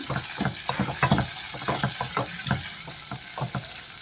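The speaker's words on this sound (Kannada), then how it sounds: "ಕ್ಯಾಪ್ಸಿಕಮ್ಮನ್ನು ನಾನು ಕಟ್ ಮಾಡಿಟ್ಕೊಂಡು ಈಗ ಒಗ್ಗರಣೆಗೆ ಹಾಕ್ಕೊಂಡು ಫ್ರೈ ಮಾಡ್ಕೊಳ್ತಾ ಇದ್ದೀನಿ" Chopped capsicum fries in a tempering of hot oil with mustard seeds and curry leaves, a steady sizzle broken by repeated stirring and scraping strokes in the pan.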